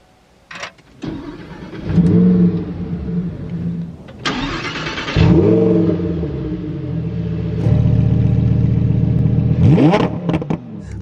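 A Lamborghini Huracan EVO RWD fires up close by: a brief starter whirr, then a sharp engine catch and flare, settling into a loud, uneven idle with several further revving blips.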